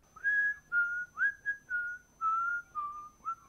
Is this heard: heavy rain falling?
no